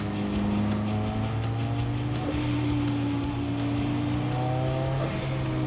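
A million-dollar Ferrari supercar's engine holds a steady, loud droning tone with layered harmonics, a continuous close-up hum that shifts pitch slightly partway through.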